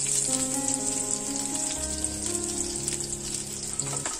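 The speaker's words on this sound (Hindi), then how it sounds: "अब हम इसी तरह सारे कबाबों को फ्राई कर लेंगे।" Chicken galouti seekh kebabs fry in hot oil with a steady, loud, close sizzle that runs unbroken throughout, along with a faint low hum.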